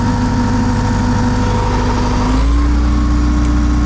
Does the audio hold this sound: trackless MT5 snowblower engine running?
yes